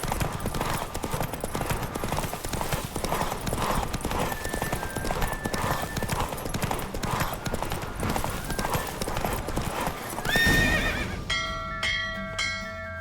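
Horse hooves clip-clopping in a fast rhythmic gallop during a race in The Witcher 3 video game, with a neigh partway through and bell-like chimes ringing near the end.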